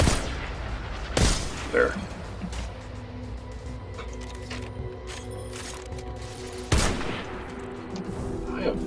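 Gunfire in the sci-fi shooter Destiny 2 (Curse of Osiris): two sharp, loud bursts of shooting about five seconds apart, with quieter rattling and game ambience between them and a brief spoken word.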